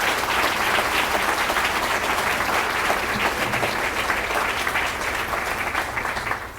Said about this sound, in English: How about a round of applause for all of our first responders